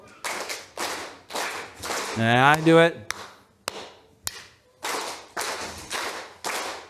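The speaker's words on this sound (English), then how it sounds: "group number 1, I need you to clap what we call quarter notes" A group claps steady quarter notes in a regular four-count rhythm, sharp even claps repeating alone, with a voice briefly speaking between the first and second sets.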